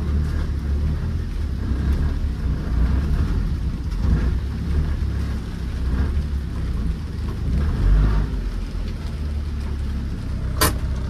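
Steady stormy rain heard from inside a Nissan B14 with water leaking into the cabin, a constant wash of drops under low rumbling, and one sharp crack near the end.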